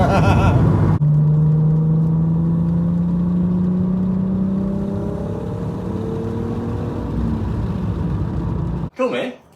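Modified VW Golf R32 with a VR6 engine pulling hard from inside the car, a loud steady drone whose pitch climbs slowly as it accelerates, with people talking over it.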